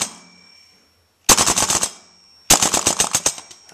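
A KWA LM4 gas-powered airsoft rifle fires on full auto in two loud, close bursts of rapid snapping shots, separated by a short pause, with no talking.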